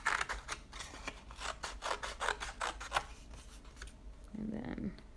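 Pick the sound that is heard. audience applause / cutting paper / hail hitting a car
cutting paper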